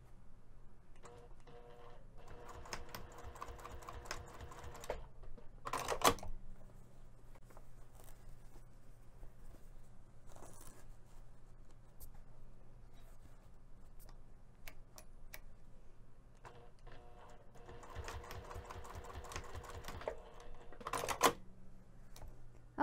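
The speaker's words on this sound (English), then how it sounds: "we're just going to be sewing 1/8 inch away from the short end on the front and the back of the bag" A sewing machine topstitches 1/8 inch from the short ends of a Tower Crossbody Bag, in two bursts of rapid, steady stitching separated by a quieter pause, close by with no talk.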